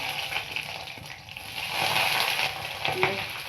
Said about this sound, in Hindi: कढ़ाई में तेल गरम हो गया, अब हम इसमें प्याज डाल देंगे